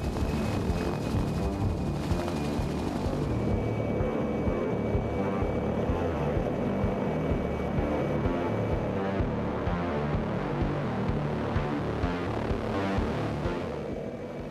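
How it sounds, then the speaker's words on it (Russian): Helicopter climbing on a skydiving flight at a rural drop zone, a loud, steady rotor and engine drone filling the cabin without letup, a faint whine riding above. "Вертолет набирает высоту."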